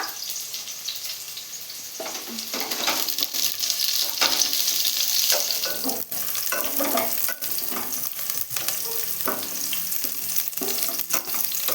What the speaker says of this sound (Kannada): ಇವಾಗ ಗಾರ್ಲಿಕ್ ಹಾಕ್ತಾ ಇದ್ದೀನಿ. ಚೆನ್ನಾಗೆ ಫ್ರೈ ಮಾಡ್ಕೊಳ್ಳೋಣ.